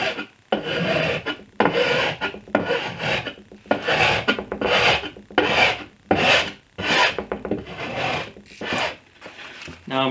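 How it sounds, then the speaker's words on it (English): Sandpaper rubbed by hand across a wooden bed-frame piece, loud close strokes in a steady back-and-forth rhythm of about a dozen rasping passes, alone without talk. "And then I will sand this."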